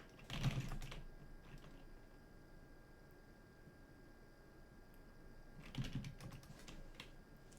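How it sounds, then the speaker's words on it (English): Two short bursts of keyboard typing, a quick flurry near the start and another near the end, with quiet room hiss in between. "That's just like random typing."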